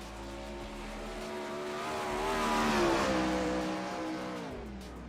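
A non-wing 410 sprint car on a qualifying lap at Volusia roars as it builds from a steady drone to a loud, close peak midway, then eases off again as it moves away, with no talk.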